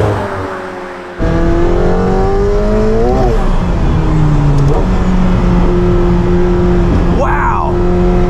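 A 2022 McLaren 720S Spider supercar accelerating hard, heard from inside: a loud engine note kicks in and rises through gear changes, pitch climbing and dropping with each shift, while a person reacts excitedly over it.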